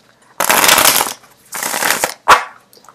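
Tarot cards are shuffled on a hard surface, two riffling bursts of rapid flutter followed by a single sharp tap as the deck is squared, close and loud without talk.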